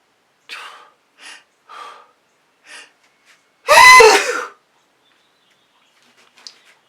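One loud, close sneeze bursts out after several short breaths and sniffs in a quiet indoor room, followed by silence and a faint click.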